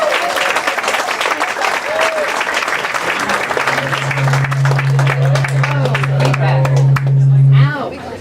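Audience applause fills a comedy show at a science comedy night, sustained clapping and some cheering from a crowd, a steady low hum running beneath and swelling briefly before cutting off.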